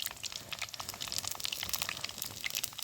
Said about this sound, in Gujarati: રાઈ આપણે ફૂટવા લાગે તો જીરું નાખી દઈશું